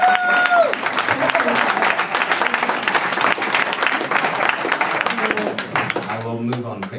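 Audience at a European poetry night applauding, a dense burst of clapping sustained for several seconds with a voice speaking briefly near the start and end.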